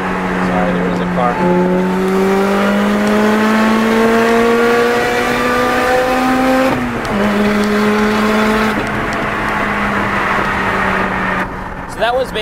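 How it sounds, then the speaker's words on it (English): A supercharged 2007 Lotus Exige S engine screams at wide-open throttle on a highway, its pitch climbing steadily through third gear, dropping at the shift to fourth, then rising again, loud and close throughout. "you can really, really hear the supercharger just screaming"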